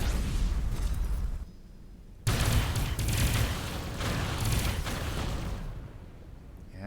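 Heavy weapons fire booms in rapid bursts from a space fleet battling attackers near a station in Avorion, loud rumbling volleys that drop out briefly, then resume and fade.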